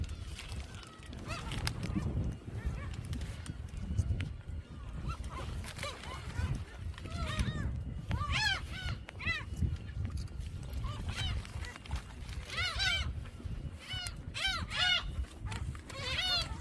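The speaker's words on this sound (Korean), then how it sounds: "온 동네 갈매기들 주연이 앞으로 집합." Seagulls crowd in on a beach at Dolmeori in Hampyeong, Korea, where they are fed shrimp snacks. Repeated sharp, rising calls from several nearby birds come in bursts over steady surf and wind, with people talking and laughing.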